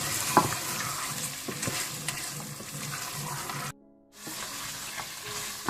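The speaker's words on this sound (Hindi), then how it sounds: "इसके बाद आप गोश्त को अच्छी तरह से भून लें।" Meat (gosht) frying and being stirred in a pot with okra for bhindi gosht, a steady close sizzle with scraping stirs, briefly cut to near silence before the frying resumes.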